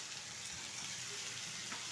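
Soybeans drop into hot oil and spices for a Bengali potato and pointed gourd curry, giving a steady, close frying sizzle with a soft hiss and no talk.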